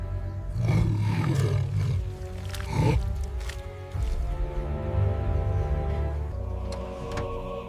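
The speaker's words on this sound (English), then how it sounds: "She let out a low, guttural growl." An injured wild lioness caught in a wire snare on the savannah, letting out a series of low, rumbling guttural growls and roars, close and fairly loud, with no voices.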